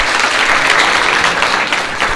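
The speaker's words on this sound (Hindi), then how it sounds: "ताली बजाइए भाई इनके लिए" An audience of schoolchildren at a government school gathering claps steadily for a student, a dense, close burst of applause lasting about two seconds with no talk over it.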